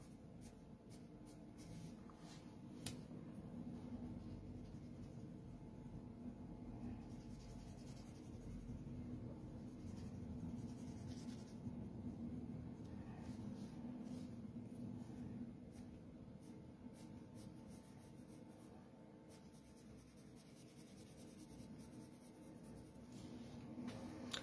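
Chalk pastels rubbed across pastel paper make a steady, continuous scratchy scraping that carries through the whole stretch at an even, moderate level, close by and with no talking.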